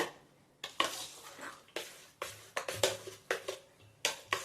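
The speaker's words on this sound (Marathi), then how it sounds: "आता हे सगळं घातलेलं मी व्यवस्थित मिक्स करून घेणार आहे." A spoon works through sabudana papad batter with spices in a metal vessel, giving irregular scraping, clattering bursts separated by brief pauses, close and moderately quiet.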